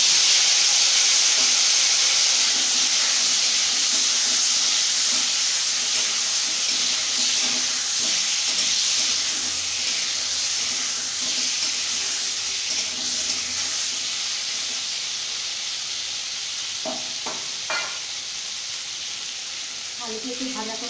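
Potato pieces fry in a wok of hot oil, a close, steady sizzling hiss that eases slightly over time, with a few utensil knocks and clatters toward the end.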